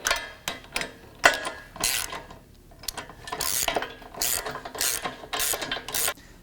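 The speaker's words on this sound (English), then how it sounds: "Now we'll go ahead and tighten these down. It's an 18 millimeter on the bolt side and a 19 millimeter on the locking nut." A hand ratchet tightens 18 mm bolts and 19 mm locking nuts while an aftermarket off-road rear bumper with a tire carrier is installed, giving bursts of quick, close metallic clicking separated by short pauses.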